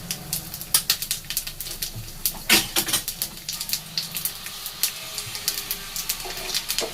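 Dried chillies, small bay leaves and a spoonful of five-spice sizzling in hot oil, a bright crackling hiss with frequent sharp pops spread unevenly throughout.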